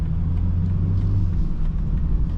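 Inside a 2023 BMW 330i xDrive, a low, steady engine and road rumble continues through a quick gear shift. The sound is loud and close, with no clearly distinct rev change and no talking.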